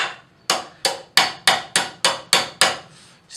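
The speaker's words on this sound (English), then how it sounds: "get that small peen in there and work out our edges of our leaf" A small peen hammer beats the edges of a forged metal leaf in about nine sharp, ringing strikes at a steady pace, each one fading quickly before the next, close and loud.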